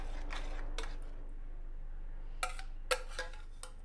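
Vegan dahl stirred in a single pot, soft scraping followed by a few sharp clinks of a utensil against the pot, close and quiet.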